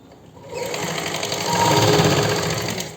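A sewing machine stitches fabric along the side slits of a shirt, a loud, close, continuous mechanical whirr that starts up and speeds slightly as it runs, heard alone.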